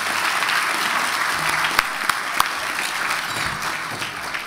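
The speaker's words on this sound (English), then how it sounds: "So I want to really give another round of applause for all of these nominees and award winners" At a student leadership awards ceremony, an audience applauds the nominees and award winners. The clapping is broad and continuous, with a few louder individual claps standing out briefly in the middle.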